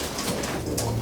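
A prized pet pigeon coos close by, a low, soft throaty call against steady background hiss and rustle.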